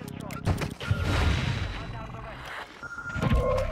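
Rapid MP7 gunfire in Rainbow Six Siege on the Vondel Park map, with dense bursts of shots close by and loud through most of the stretch, mixed with game effects and someone talking.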